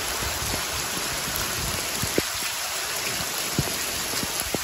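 Heavy rain pours down in Delhi as a dense, even hiss, with scattered sharper drops and splashes landing near.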